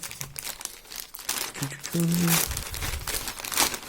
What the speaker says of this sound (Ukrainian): приїхав ось такий великий пакетик, і зараз ми його з вами відкриємо і подивимося, що там всередині